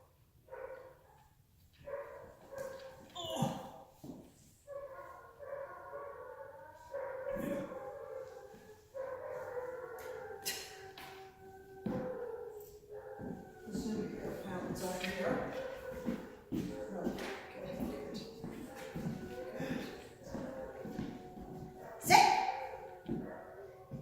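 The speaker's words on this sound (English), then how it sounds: "With my dogs howling, they're probably playing with their dad over there." Dogs howl in long, wavering tones, several voices overlapping, with scattered barks and yips and some shuffling; moderately distant, rising in intensity toward the end.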